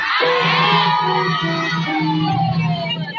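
Church congregation cheering, whooping and shouting together in a loud, sustained crowd roar that swells early and stays strong throughout, with no single voice standing out.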